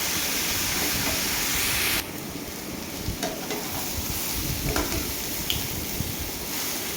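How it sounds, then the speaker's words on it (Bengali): Broken egg being stirred with vegetables in a hot frying wok while cooking khichuri: a steady sizzle and hiss with scraping stirs, loud at first, then slightly quieter after about two seconds, with no talking. "দেখো ডিমটা ভেঙে আমি কড়াইতে দিয়ে দিয়েছি সবজির মধ্যে তো ভালো করে নেড়ে নিচ্ছি"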